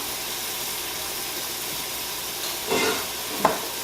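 Minced jarred garlic in melted butter sizzling steadily in a pan, a soft continuous fry hiss with a couple of brief louder scrapes or spatters near the end.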